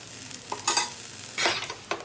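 A vegetable masala omelette on leftover roti fries in a little oil in a pan, with short bursts of sizzling and stirring or scraping noises close by.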